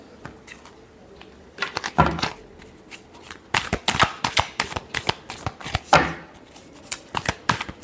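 Tarot cards shuffled by hand in close, crisp bursts of riffling and slapping, arriving in uneven clusters with short pauses between, and no talking.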